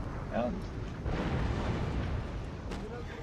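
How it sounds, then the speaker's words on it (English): Bombardment mortars firing and exploding in a battle video game, a dense rumbling barrage of low booms, loud and continuous, with speech mixed in. "the mortars are still bombing"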